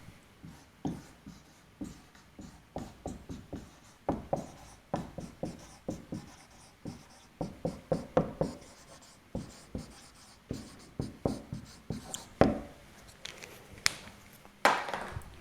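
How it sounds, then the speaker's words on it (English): Chalk or marker writing on a board during a physics lecture, a run of short scratchy strokes and taps in irregular bursts, close and moderately loud, with no talking. "So let me write that down."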